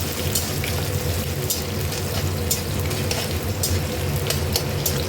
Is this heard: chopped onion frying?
yes